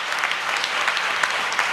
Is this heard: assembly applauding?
yes